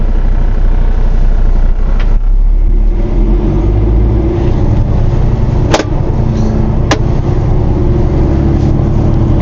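A 2023 Peterbilt 389 Renegade Classic truck with a 605 hp Cummins X15 engine pulls away under throttle, a loud, deep, continuous diesel drone heard from inside the cab, with a couple of faint clicks.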